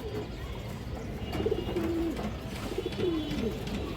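Pigeons at a farm give a few low, rolling coos in quick succession, close and moderately quiet over a steady background hum.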